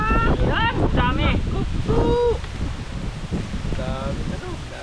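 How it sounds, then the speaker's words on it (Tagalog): Gusty wind buffets the microphone with a loud rushing roar beside a large deep river while people talk over it. "Mahangin na naman."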